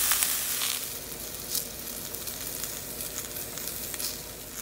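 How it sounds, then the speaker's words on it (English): Vegetables and onions caramelize in a pot with a steady, soft sizzle while a spoon stirs them, faint scraping accents rising over the continuous frying hiss. "I'm actually using the Hilton spoon to stir my vegetable."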